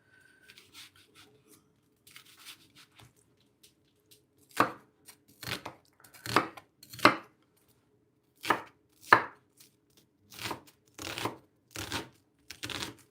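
A knife chops red vegetables and onion on a board: a few light taps at first, then about ten firm, distinct chops spaced at an uneven rhythm, close and clear against a quiet background.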